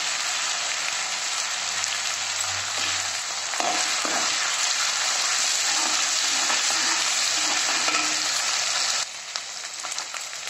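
Garlic ginger paste sizzles and fries steadily in a hot pan for a green chilli fish dish, a dense continuous crackle with occasional stirring scrapes, loud and close, no talk.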